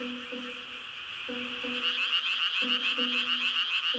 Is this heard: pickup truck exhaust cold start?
no